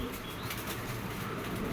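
A pair of short face pigeons flap their wings in soft, continuous fluttering, close by and steady.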